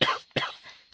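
Two harsh coughs from a person, close and loud, with a fainter rough tail after the second and another starting at the end.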